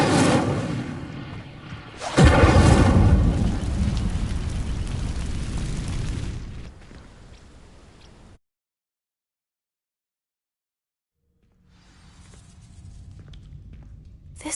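A fire spell bursts and ignites dry vines in Hogwarts Legacy, a sudden loud whooshing eruption that roars for several seconds, fades to a low crackle, drops to silence, then a faint rumble returns.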